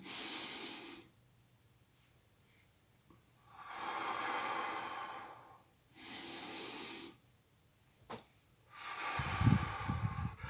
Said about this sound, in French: On inspire par le nez, on bloque la respiration pendant 1 seconde ou 2